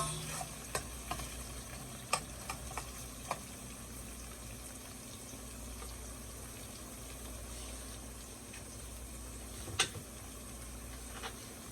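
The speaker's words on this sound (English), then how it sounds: "Gonna fry it" Garlic, tomatoes, bell peppers and fresh thyme sizzle and crackle steadily in a hot pan, with occasional utensil clicks and stirring, close by and without speech.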